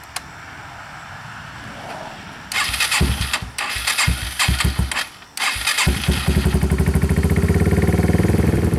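Modified 2009 Yamaha TW200 motorcycle started on choke: a quiet lead-in, then the engine cranks and sputters, stalls briefly, catches again and settles into a loud, steady, close-up thumping idle.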